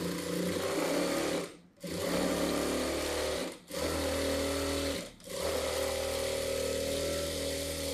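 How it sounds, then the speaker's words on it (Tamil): A sewing machine stitching an edge seam on a boat-neck saree blouse, running in a steady close whir that stops briefly three times between bursts. "கீழே வந்து ஒரு எட்ஜ் தையல் போடுறேன்."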